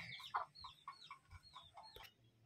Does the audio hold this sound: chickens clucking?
yes